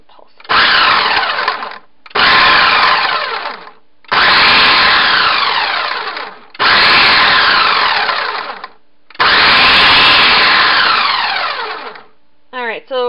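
A kitchen blender pulses while chopping ingredients for a raw cashew cheese sauce: five loud, close whirring bursts of about two seconds each, separated by short pauses, then a brief final blip.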